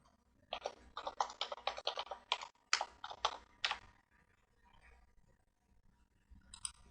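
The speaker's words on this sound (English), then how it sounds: "type your username" Quick bursts of computer keyboard typing, close and crisp, a run of rapid key clicks for about three seconds before trailing into faint scattered taps and quiet.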